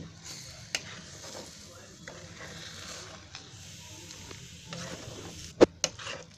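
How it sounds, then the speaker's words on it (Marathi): A spoon stirring cabbage gravy in a pan on a low flame, scraping and soft sizzle throughout, with a few sharp clinks of utensil against the metal near the end. "आता मी अशी सारखी हलवून घ्यायची"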